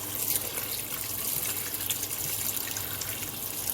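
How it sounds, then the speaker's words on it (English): Tripe being rinsed under a steady stream of running water in a large strainer, a continuous close, even splashing rush with no pauses. "add all of my tripe, my pancita, and I'm going to just rinse it really well"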